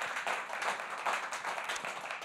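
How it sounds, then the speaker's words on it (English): Audience applause at a comedy set during a December 2016 open music session in Denver, a fairly quiet, moderately dense clapping that swells and dips unevenly over a couple of seconds. "Another round of applause for Denver Open Media for putting this on."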